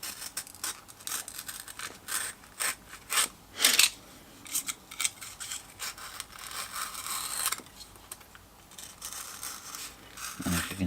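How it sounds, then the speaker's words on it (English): Foam board being cut with a blade, a series of close, intermittent scraping and rasping strokes with short pauses between them, with no talking. "the foam board cuts nice and easy"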